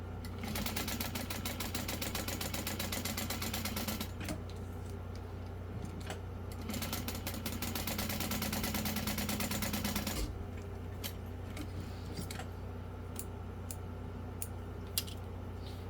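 Sewing machine topstitching down each side of a fabric strap for a wristlet, a fast steady mechanical whir in two long runs with a short pause between, then stopping with a few scattered ticks and taps, no talking.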